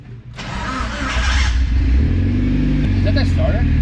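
A Mitsubishi Evo wagon engine cranks and catches, then settles into a low, lean-running idle with a steady rumble close by, while people talk over it.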